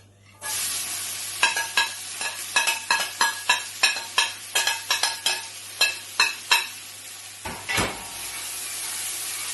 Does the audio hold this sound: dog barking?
no